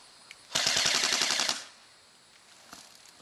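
An airsoft machine gun firing BBs in a single fast burst of about a second, a rhythmic stream of sharp snapping shots, loud and close, followed by quiet.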